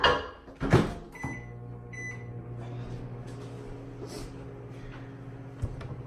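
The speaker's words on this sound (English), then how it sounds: "usually about 2 minutes in the microwave" Microwave oven running while heating a cup of water, a steady low hum that continues for several seconds after a couple of door clunks at the start, close and moderately loud.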